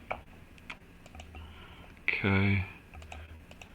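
Fast clicking on a computer keyboard, with a rapid patter of light keystrokes throughout, briefly joined by a louder tonal sound near the middle, while someone speaks a short word.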